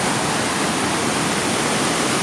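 Tat Yai waterfall rushes in a constant, dense roar, loud and close, with no voices over the steady spray.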